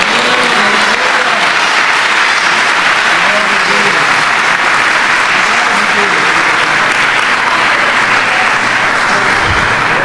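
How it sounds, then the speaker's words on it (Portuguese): Loud, sustained applause from a church audience at a Portuguese-language book presentation, a thick wash of clapping holding steady the whole time. "Você pode aplaudir a Jesus?"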